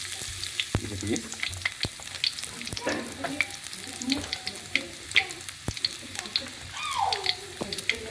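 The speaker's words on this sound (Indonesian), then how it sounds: "Kalau udah panas kita masukin bawang merah, bawang putih yang sudah diiris." Sliced shallots and garlic hit hot oil in a wok, giving a bright continuous sizzle with crackling spatters, scattered utensil clicks and stirring scrapes, close up, with a faint voice briefly in the background.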